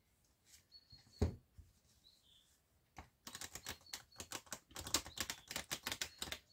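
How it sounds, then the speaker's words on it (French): Birds chirp and flutter outside an open window in a quiet room, with faint calls early on, then a dense run of sharp, rapid clicking and tapping sounds close by. "vous devez entendre les oiseaux parce que j'ai ouvert ma fenêtre"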